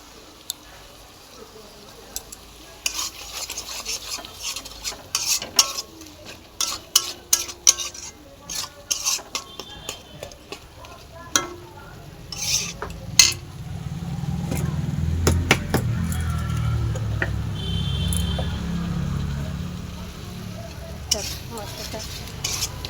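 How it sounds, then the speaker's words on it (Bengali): Spiced masala being stirred and sautéed in a pan, heard as repeated close scraping and clattering strokes, followed by a louder, steadier sizzle in the second half. "মশলাটা কষানো হয়ে গেছে"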